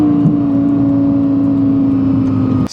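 A Lexus LFA engine is held at high revs, producing a loud, sustained, steady howl that dips in pitch near the start, heard close up and cutting off abruptly at the end.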